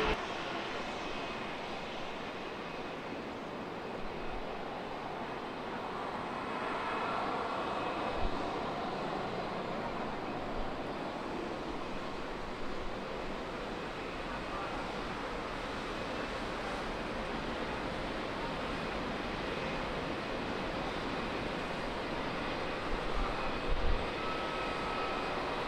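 A Boeing 737 airliner landing on runway 27 at San Diego, heard as a steady, distant broad roar of jet engines and air that stays even throughout, with no voices.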